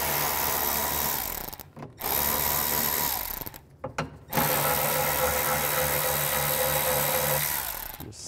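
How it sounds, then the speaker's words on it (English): A 7mm socket on a ratchet backs out tail light bolts on a 2011-2016 Chevy Cruze, loud clicking bursts broken by short pauses as the bolts loosen. "Now I'm gonna remove the two bolts that are in here. I'm just gonna use a 7mm socket."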